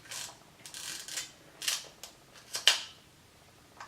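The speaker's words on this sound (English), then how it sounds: "and the self-timer works" The self-timer of an Exakta VX IIB single-lens reflex camera runs, giving a close, quiet mechanical buzz and a series of rhythmic clicking bursts that end in a louder final click.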